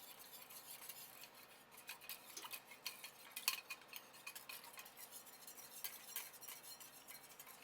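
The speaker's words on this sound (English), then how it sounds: "And I have another nice whisk. So I'm going to just stir." A whisk clinks softly and steadily against a bowl while stirring a brown sugar glaze with a little cold water, faint and close with light irregular taps and no talking.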